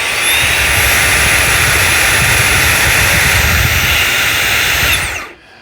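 Fanttik Slim cordless vacuum switched to its high power setting, giving a loud, steady whining roar with a high motor tone that holds for about five seconds, then cuts off abruptly.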